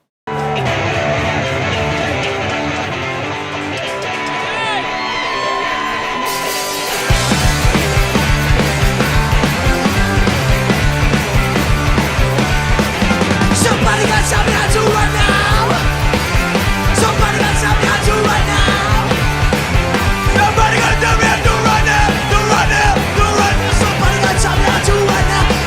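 A loud, driving punk rock song by an Australian band, opening with a thinner, quieter intro before the full band crashes in around seven seconds and plays on at dense, steady volume without talk.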